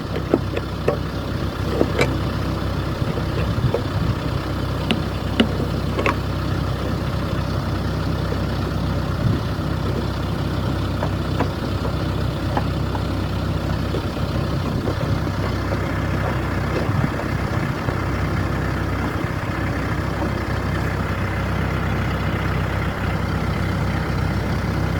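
A Branson 5520 tractor engine idles steadily outdoors in soft, packed snow, a continuous low rumble with faint clicks and small variations throughout, no voices.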